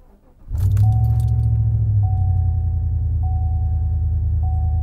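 A car engine cranks briefly and catches on a cold start, settling into a loud, steady idle with a low rumble and a faint repeating tick, no talking.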